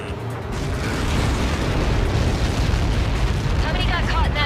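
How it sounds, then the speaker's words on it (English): A large projectile explodes on impact in the air-combat video game Ace Combat 7, giving a loud, dense, sustained roaring blast with a heavy low rumble that holds for several seconds. "How many got caught in that explosion?"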